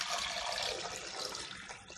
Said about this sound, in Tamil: இப்போ நான் இதில் போட்டு இது மூழ்கிற அளவுக்கு தண்ணி விட்டுக்கிறேன்